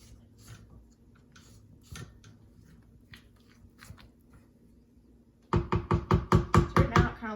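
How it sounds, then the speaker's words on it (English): Cake batter is mixed after the sides of the bowl are scraped down: soft intermittent scrapes and knocks, then a loud rhythmic run of sharp mixing strokes near the end. "Scrape down the bowl and mix it a little bit more."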